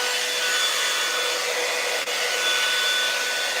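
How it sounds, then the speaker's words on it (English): A T3 blow dryer roars steadily and loudly at close range while drying hair, a constant whooshing airflow with one brief dip partway through. "I'm using the T3 blow dryer"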